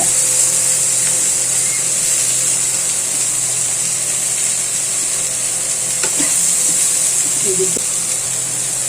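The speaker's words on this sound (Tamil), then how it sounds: "இப்போ நம்ம கீரையும் அதில் போட்டுட்டோம், நல்லா வதங்கட்டும்." Drumstick leaves sautéing in a pan for a ragi adai, a continuous close sizzle with occasional faint stirring clinks.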